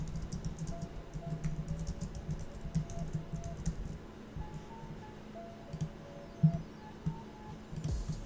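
Steady keyboard typing during a home illustration livestream, a fairly quiet run of soft clicks in uneven bursts with a faint tonal hum and a few sharper taps, no voices.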